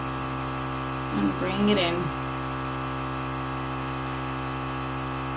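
Temptu 2.0 airbrush compressor running as a steady, close mechanical hum and hiss throughout while makeup is sprayed, with a brief spoken phrase over it.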